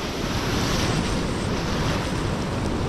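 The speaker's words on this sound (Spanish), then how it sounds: "Estoy en zona que me rompen las olas." Sea waves break and wash steadily onto a calm beach at Playa Marlin in Cancún, where Isla Mujeres shelters the shore. The broadband surf roar is loud and continuous, with wind buffeting the microphone and no talk.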